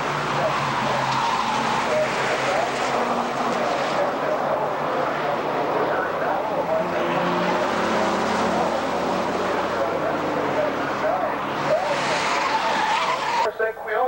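Showroom Stock A race cars, among them a Mitsubishi Starion, roar around the track at the 1991 Runoffs with tires squealing and skidding, a loud continuous engine wash as the cars pass, while a commentator talks over it.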